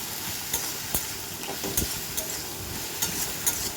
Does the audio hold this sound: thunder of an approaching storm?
no